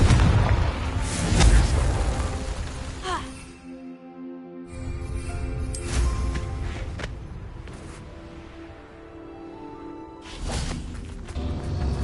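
Confringo fire spell blasts in Hogwarts Legacy, played on PS5: several booming, fiery bursts go off at irregular intervals, loud and close, over a sustained musical backdrop.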